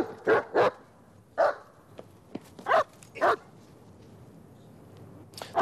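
A dog barks frantically in short bursts of loud, sharp yaps, several quick pairs and singles spaced across a few seconds, close by and alone.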